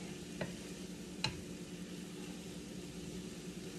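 Cod paté filling, with lemon juice added, simmering in a pan while being stirred, with two sharp scrapes of the spoon against the pan over a steady low hum and soft bubbling.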